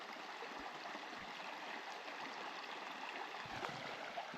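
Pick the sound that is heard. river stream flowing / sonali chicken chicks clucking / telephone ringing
river stream flowing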